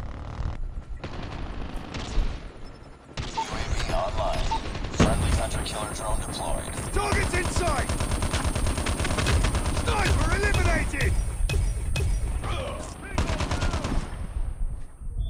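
A machine gun with infinite ammo fires almost nonstop in Call of Duty Mobile, with loud, rapid automatic bursts and other gunfire sounds running the whole time. Players talk over the shooting.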